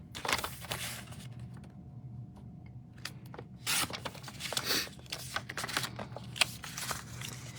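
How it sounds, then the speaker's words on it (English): Scissors or a trimmer cutting a 4.5 by 6 inch piece of cardstock into 2 inch strips, heard as close, dry slicing and scraping strokes with small clicks and taps, in uneven bursts and with no talking. "I'm going to turn to the horizontal position and cut at 2 inch increments."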